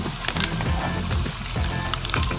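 Aloo tikki frying in a pan, a steady oily sizzle with soft crackles and light pan scraping as the patties are turned.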